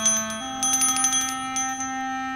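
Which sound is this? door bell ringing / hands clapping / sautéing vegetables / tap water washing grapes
door bell ringing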